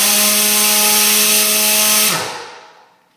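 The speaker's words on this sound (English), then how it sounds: "now we've just tested the valve that drives the motor" A pneumatic valve drives a machine's motor during a self-diagnostic test: a loud, steady whirring hum with a strong tonal whine runs for about two seconds, then spins down and fades away, with no voices.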